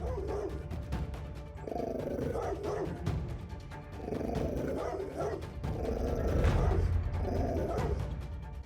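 A support dog barks and growls at an intruder who came in through the door, with loud, repeated rough barks in bursts over a low background rumble and no speech.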